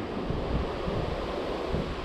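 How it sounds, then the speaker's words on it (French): Strong wind buffets the microphone outdoors beside a large stone aqueduct during a fishing trip. The roar is a steady, broadband rush that runs unbroken for two seconds and has no voices. "Et là il y a un vent de fou par contre."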